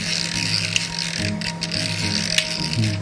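Electric sign timer dial being turned by hand, each notch a ten-minute step, giving a run of small dry ratcheting clicks up close against a faint hum, with no talk.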